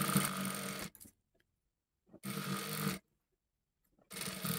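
A sewing machine stitches lace onto a kurta in three short loud bursts of rapid mechanical whirring, with silent pauses between them.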